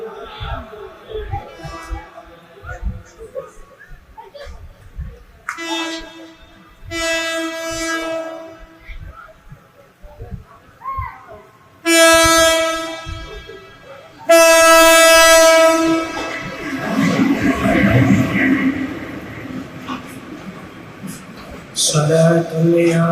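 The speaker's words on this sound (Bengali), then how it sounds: "ট্রেন আসতেছে, ট্রেনের লাইন থেকে সরে যান" A train approaches with repeated loud, long horn blasts in separate bursts, growing closer and louder, with rumbling wheels and rail clatter, while a voice speaks and chants in the background.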